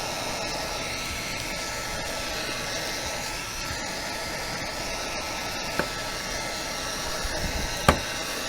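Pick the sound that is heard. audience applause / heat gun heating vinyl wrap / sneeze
heat gun heating vinyl wrap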